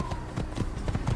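Horse hooves galloping in the video game Assassin's Creed, a quick rhythmic clatter of repeated hoofbeats over a steady background bed, moderately loud and close.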